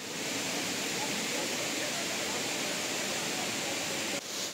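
The Ramling waterfall in Dharashiv district, running after two days of heavy rain, gives a steady, dense rush of falling water, loud and continuous throughout with no pauses, with a brief dip near the end.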